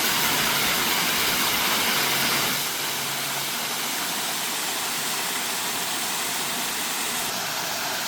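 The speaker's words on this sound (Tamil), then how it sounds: "நல்ல ஹைட்லேருந்து தண்ணி கொட்டி அது ஸ்விம்மிங் பூலுக்கு வந்து" Water falls from a good height into a swimming pool at a mini falls in a farm grove, making a steady, loud, broadband roar and hiss that runs unbroken throughout, close by, with no voices.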